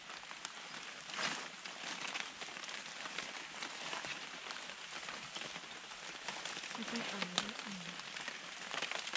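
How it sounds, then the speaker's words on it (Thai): Steady rain falls in a forest where wild mushrooms grow, pattering evenly and fairly softly on the ground and leaves throughout, with a brief faint voice-like sound near the end. "ฝน"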